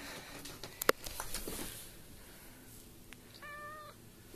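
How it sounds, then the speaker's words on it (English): A house cat lets out a single clear meow near the end, after a few soft clicks and light handling noises in a quiet indoor room. "He's the best kitty in the world."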